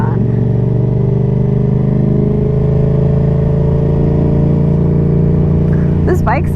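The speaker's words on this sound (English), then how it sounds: "This bike sounds really nice too" A Yamaha XSR700 motorcycle engine drones steadily and loudly up close, a constant low exhaust rumble, with a brief voice near the end.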